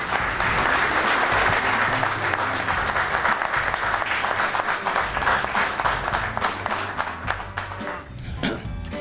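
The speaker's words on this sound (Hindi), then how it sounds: "आपकी ढेर सारी तालियों में मदू करूँगी सरफराज शाहिद साहब को।" At an Eid special mushaira, the audience breaks into a sustained round of dense, loud applause. It tapers off near the end.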